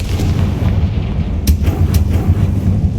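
Confringo spell blasts in Hogwarts Legacy go off as a loud, continuous rumbling roar with a few sharp cracking booms layered on top.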